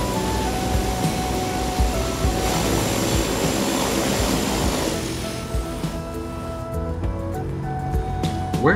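A steady airplane engine drone plays in the Airport CEO airport simulation game as a plane taxis to a hangar. It holds a loud, continuous hum with a whine that fades midway, and no talk.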